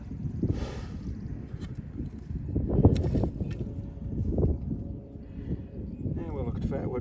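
Wind gusts outdoors buffet the microphone in a steady rumbling roar with surges, blowing across a bow drill fire-making setup with a fatwood block; a voice speaks briefly early on.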